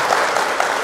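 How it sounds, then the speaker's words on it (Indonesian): Audience applause for a guest at a televised talk show on managing the nation, a steady dense wash of clapping holding evenly through the short moment. "Tepuk tangan kita."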